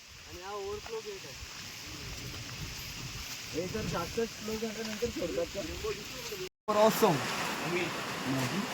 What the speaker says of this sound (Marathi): ही डॅमची ओव्हरफ्लो आहे